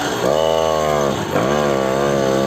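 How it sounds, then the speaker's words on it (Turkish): A moped engine fitted with an aftermarket exhaust revs hard and loud, its buzzing note climbing, dipping briefly, then rising again as it accelerates, close by with no talk. "Cırcır egzozu çok fazla çıkıyor"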